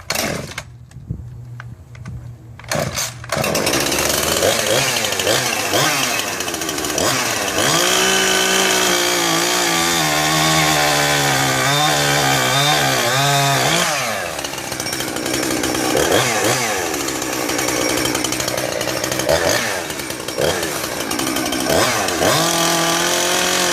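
A ported Husqvarna 350 chainsaw starts and runs loud and close, revving up and down in a snappy high whine that holds throughout, with no talking.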